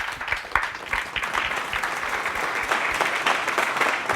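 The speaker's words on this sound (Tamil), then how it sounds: "ஒரு அரங்கம் நிறைந்த கைத்தட்டல் கொடுக்கலாம்" An audience claps steadily, a room full of scattered hand claps continuing for several seconds at moderate volume.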